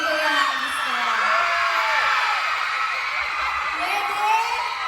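A crowd at an album launch and birthday event shouts and whoops loudly in a sustained, overlapping roar, with a voice speaking over the noise.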